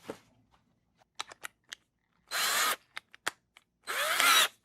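A power drill spins sandpaper against the fretboard of a Fender Squier Mini guitar in two loud, short whirring bursts, broken up by small clicks and taps up close.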